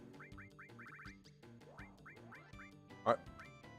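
A chocobo in the original Final Fantasy VII gives a short squawking call over bouncy music with repeated chirping notes.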